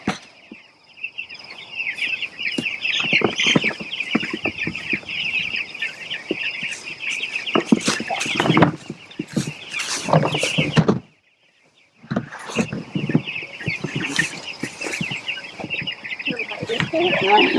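Chickens on a pasture-raised chicken farm cluck and chatter continuously nearby, with bursts of louder squawking and knocking or rattling noises, broken by a brief near-silent gap midway; a person speaks intermittently.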